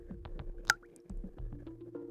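Water drops dripping from rooftops at night after rain, a few distinct close plinks and drips, one sharper than the rest, over low ambient rumble.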